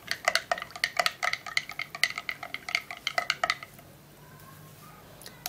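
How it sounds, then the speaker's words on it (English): A spoon clinks rapidly and rhythmically against a cup while stirring a bedtime tea drink, close and distinct, then stops and leaves quiet room tone. "Okay, so I'm gonna stir this."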